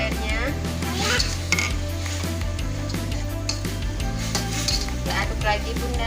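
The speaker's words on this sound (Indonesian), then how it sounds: "Aduk lagi bunda sampai cabai hijaunya matang ya bun" A spoon stirring green chilies simmering in a little water in a cooking pot for a Betawi-style pindang dish, giving repeated close metallic scrapes and clinks against the pot over a constant low background hum.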